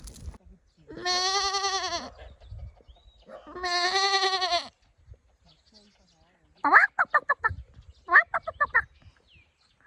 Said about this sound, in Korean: 염소도 있네 염소